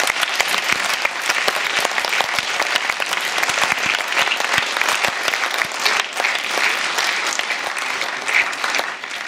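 Loud, dense applause from an audience greets a prize winner at a film festival award ceremony, with steady continuous clapping close by throughout and no speech over it.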